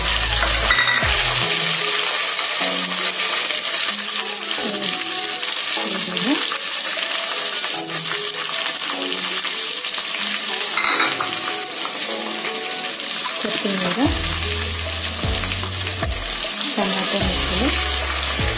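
Green chillies go into hot oil already holding cumin, mustard seeds and dried red chillies, tempering for tomato rasam; a steady, loud sizzling crackle runs throughout with a few brief clinks and stirring scrapes.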